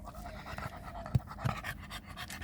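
A dog pants close by in quick, steady, breathy rhythm, with a couple of soft thumps as it moves.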